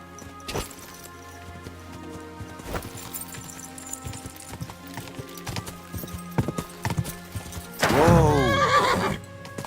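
A horse in Kingdom Come: Deliverance II clatters along with sharp, irregular hoofbeats, then lets out a loud, close whinny near the end.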